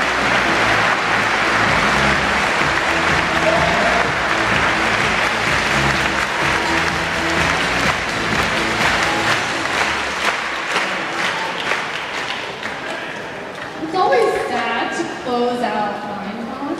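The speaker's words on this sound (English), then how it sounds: "Give them a huge, huge, huge clap." Crowd at MINECON, a Minecraft convention, claps loudly and steadily for about twelve seconds, dense and roomy, before the applause thins out and people start talking close by.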